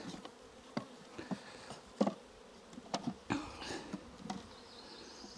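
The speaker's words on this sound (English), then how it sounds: "Some good calm bees." Calm honey bees buzz in a nuc hive during an inspection, a soft, steady hum close to the microphone broken by scattered small clicks and bumps, with no talking.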